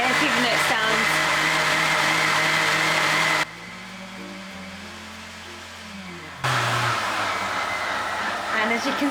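A Vitamix or Sage blender runs at high speed on its mill blend setting, as used for milling flour: a loud, steady motor roar that drops to a quieter hum partway through and then surges back up.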